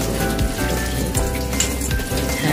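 Cabbage and spring cabbage (bomdong) being washed under water for a salad, with a continuous splashing, pattering rush of running water and small knocks of leaves close by.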